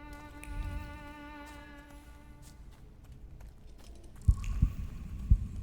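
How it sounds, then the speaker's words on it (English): Heartbeat in a video game, a few deep, distinct thumps arriving near the end after a stretch of low humming ambience and music, fairly loud and without speech. "A heartbeat."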